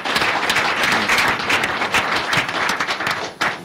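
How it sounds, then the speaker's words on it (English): A studio audience claps for a guest on a Nigerian radio programme, loud and sustained dense applause throughout, with no talking over it. "Make una clap for him."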